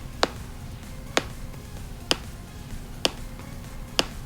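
A test track from a test disc, played through a Kicker LX 1300.7 car audio setup: five sharp, evenly spaced clicks about one second apart, each crisp and brief over a faint low hum, with no voices.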